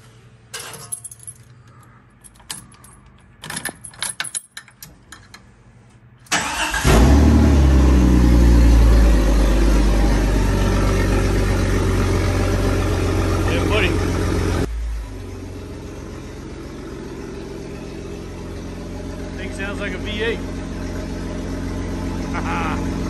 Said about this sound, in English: So that's the exhaust.